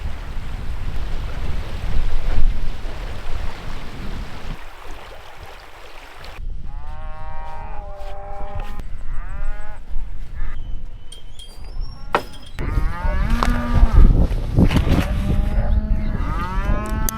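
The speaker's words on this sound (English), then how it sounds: "The farmers have just moved the cows into where our bikes are." Cows that farmers have moved into a field in a New Zealand valley, several loud nearby moos in the second half, with wind buffeting and rustling beforehand.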